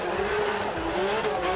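A drift car runs a pass of the circuit at Drift Masters Germany in Ferropolis, its engine droning loud and steady with rising pitch as the tires squeal throughout.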